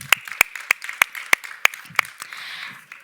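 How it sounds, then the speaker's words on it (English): About eight sharp, evenly spaced claps ring out close by, over soft background audience noise at an energy conference panel. "let's give a round of applause for our speakers"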